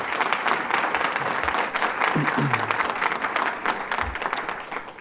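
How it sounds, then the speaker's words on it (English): A school campaign kickoff audience applauds steadily, a dense wash of clapping throughout with a voice briefly audible underneath. "give another round of applause for yourself"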